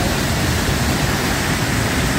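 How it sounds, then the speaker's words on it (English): Rushing water from a waterfall roars in a dense, continuous wash, loud and close with no voices over it. "Nothing like the sound of rushing water."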